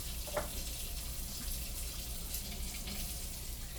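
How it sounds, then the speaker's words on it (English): Hot water runs from a kitchen tap while steak with New Mexico red chile is being made, a steady, moderately quiet hiss of flowing water that continues unbroken throughout. "I'm going to get a little bit of hot water."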